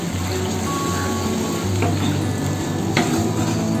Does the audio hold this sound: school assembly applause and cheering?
no